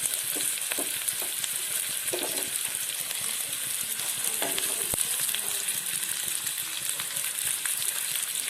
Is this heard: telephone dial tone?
no